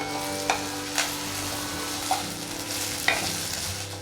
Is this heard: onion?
yes